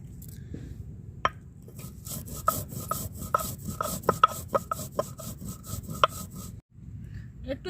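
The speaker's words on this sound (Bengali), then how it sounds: "এই জিরে এখন আমি বেটে নেব।" Cumin seeds ground on a grinding stone with a little water beside a hearth, a steady back-and-forth rubbing and rasping with sharper scraping knocks at irregular points, close and fairly quiet, no talking.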